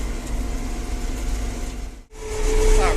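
John Deere 952 combine harvester engine running steadily during a late soybean and corn harvest, a loud continuous drone that dips briefly and then swells as the engine revs up, with no voices.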